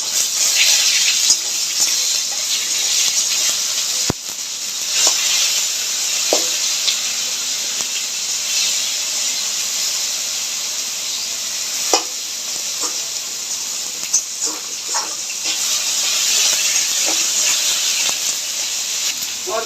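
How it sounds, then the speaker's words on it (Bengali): Tomatoes with a pinch of salt going into a sizzling vegetarian curry of potato, pointed gourd and soya chunks in a pan, with a loud steady hiss and frying crackle and scattered spoon clicks, close, no talking. "এবার টমেটোগুলো দিয়ে দেবো। টমেটো নরম হওয়ার জন্য সামান্য একটু নুন দেবো।"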